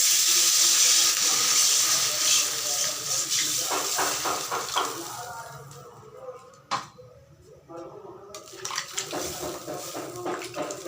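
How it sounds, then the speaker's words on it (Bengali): Water streams into a pan of fried spice paste for a thin Bengali fish curry, a loud hissing pour at first that fades into softer sizzling and bubbling, with light clatter toward the end. "তো এখন আমি জল দিয়ে দিব।"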